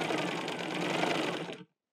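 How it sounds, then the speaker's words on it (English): A sewing machine stitches a sleeve onto the body of a simple medieval tunic in one steady, close, continuous whirring run, stopping abruptly just before the end. "now I have a sleeve in a body and I'm going to sew it"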